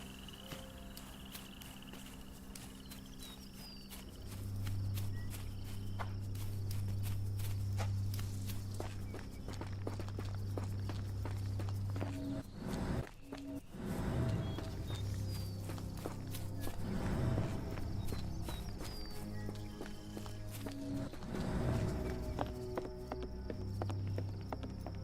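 Horse hooves clip-clopping in the game Sherlock Holmes The Awakened, an even rhythmic stream of hoofbeats over a low droning ambience, moderately close, with no talking.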